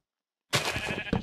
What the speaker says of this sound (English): Oh no, the sheep's gonna get out.